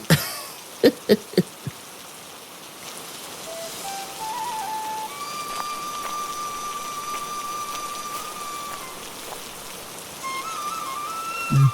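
Steady rain falls across a cartoon village scene during the monsoon, a continuous soft patter lasting throughout, opened by a few sharp knocks and accompanied by sustained tonal whistles and hums over the rainfall.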